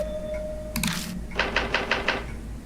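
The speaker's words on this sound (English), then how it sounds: "As I speak the words, the typewriter begins to make sounds on its own." Keys of an old typewriter striking on their own in the horror game Spirit Hunter NG, about five evenly spaced mechanical clacks over a low hum, preceded by a short rattle, with no talk.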